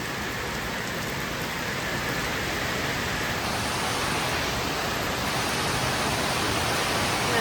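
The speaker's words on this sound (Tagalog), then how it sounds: "Ang lakas ng ulan. Ayan, bagyo na. Sobrang lakas ng ulan." Heavy typhoon rain with wind pours down in a dense, steady hiss, loud and constant from start to finish, with no voices.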